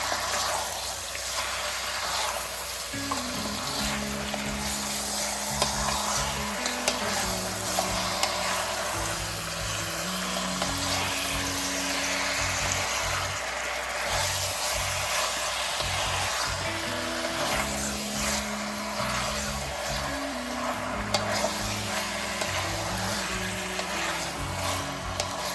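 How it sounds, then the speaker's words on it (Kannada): Mutton with turmeric and ginger garlic paste fries on high flame, giving a continuous, even, close sizzling hiss that barely changes over the whole stretch. "5 to 10 ಮಿನಿಟ್ಸ್ ಹೈ ಫ್ಲೇಮಲ್ಲಿ ಫ್ರೈ ಮಾಡಿ."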